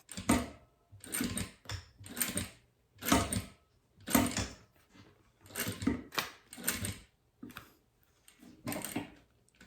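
A sewing machine with a Teflon presser foot and nylon 60 thread stitches a clear plastic pencil case in short stop-start bursts of mechanical whirring and ticking, separated by quiet gaps, close and without voices.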